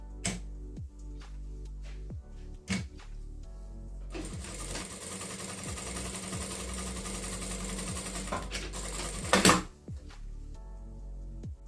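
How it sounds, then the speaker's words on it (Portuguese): A sewing machine stitches TNT non-woven fabric in a long, steady, loud whirring run, with scattered mechanical clicks and short bursts of stitching before and after. "E eu vou fazer a costura aqui nos 3 tecidos para vocês verem como está saindo"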